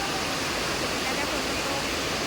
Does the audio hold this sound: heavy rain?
yes